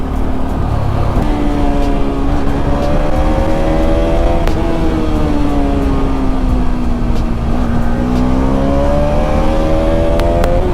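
A Bajaj Pulsar RS200 motorcycle with a modified exhaust idles loudly up close, its engine note rising and falling in slow revs against a constant rough, throbbing drone.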